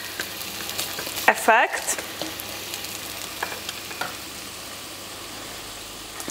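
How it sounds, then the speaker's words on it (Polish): Garlic frying in a pan over medium heat, a steady close sizzle with stirring scrapes and a brief louder clatter near the start. "dosłownie minutę góra na tym średnim ogniu nasz czosnek prażymy"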